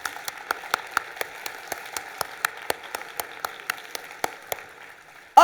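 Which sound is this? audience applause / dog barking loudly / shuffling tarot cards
audience applause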